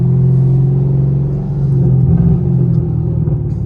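A 500hp Camaro SS V8 rumbles deep and loud while driving in first gear, a steady low drone from inside the car with slight swells.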